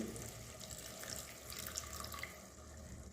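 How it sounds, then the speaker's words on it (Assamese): Hot water is poured into a fish curry (masor tenga) cooking with gourd and tomato. It makes a steady, soft splashing stream at close range throughout, with no talking. "ইয়াত অলপ মই গৰম পানী দি দিম"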